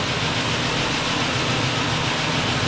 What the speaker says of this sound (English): Those lifters are noisy.